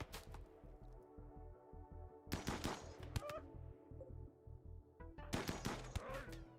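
Video game gunfire comes in three short, rapid bursts separated by brief lulls, each volley a quick rattling string of sharp cracks over a steady low thumping rhythm, fairly quiet overall.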